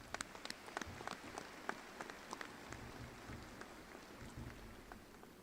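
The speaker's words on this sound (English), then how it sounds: "Let's give them a round of applause." Graduation ceremony audience gives a round of applause, scattered distinct claps over a soft wash of crowd clapping, fairly distant and faint throughout.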